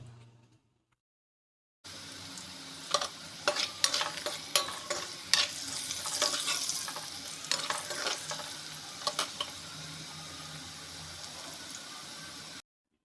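Garlic and turmeric frying in a pan for tomato dal, a steady broadband sizzle with repeated sharp scraping clicks from stirring, close and moderately loud, with no talking.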